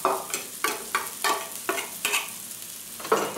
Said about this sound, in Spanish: Vamos a ir echando los ingredientes que tenemos crudos, por ejemplo el pimentón, nuestras alverjas que están blanqueadas